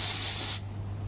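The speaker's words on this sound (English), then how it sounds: "Now, I've got some cooling spray here." Cooling spray blasts from an aerosol can in a single loud, close hiss lasting about half a second, then cuts off abruptly to a low background hum.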